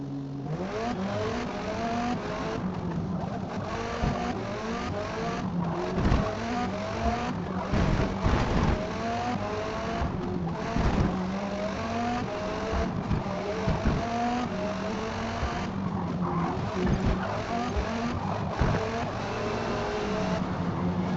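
Race car engine in Forza Motorsport, loud revving that climbs and drops through shifts as the car chases and passes rivals, with other cars briefly whooshing by and no talk.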